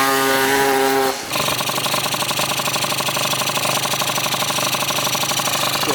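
A Malaguti F12 70cc scooter engine being tuned rises through a whining rev, cuts out briefly, then settles into a loud, harsh, rapidly rattling high-rev buzz.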